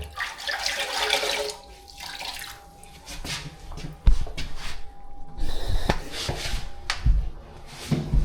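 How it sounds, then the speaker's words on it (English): A grout sponge is rinsed and wrung out in a bucket of water, with continuous close splashing and sloshing, dripping and squeezing sounds, and a few sharper knocks. "Come back, rinse your sponge out again."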